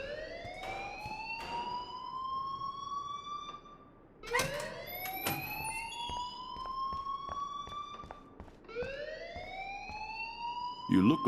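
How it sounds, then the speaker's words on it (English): A fire alarm in the game Life is Strange wails in repeated rising sweeps, loud and continuous, with voices talking beneath it. "please turn off that alarm since that's your job"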